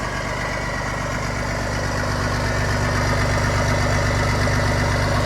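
A Bizon Gigant Z060 combine harvester engine idling steadily at close range, a continuous low rumbling drone with even, unchanging vibration throughout.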